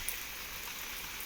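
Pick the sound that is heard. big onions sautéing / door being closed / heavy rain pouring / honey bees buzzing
heavy rain pouring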